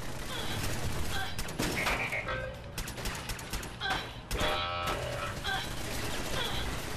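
Rapid bursts of gunfire in the Fallout 4 video game rattle on with dense, overlapping shots and some thuds, under a speaking voice.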